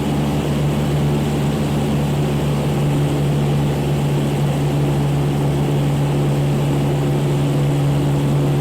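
Small propeller airplane engine pulled back to about 2,000 RPM during a flight lesson, a steady loud droning hum heard from inside the cockpit with no break and no talk.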